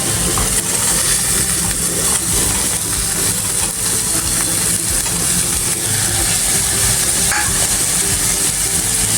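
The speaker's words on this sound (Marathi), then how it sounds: "आता आपण ह्या एक एक भाज्या त्यामध्ये परतून घेऊया" Vegetables such as cauliflower, corn and capsicum sautéing in a pan for paneer pulao, giving a loud, steady sizzling hiss that continues without pause, with no voices.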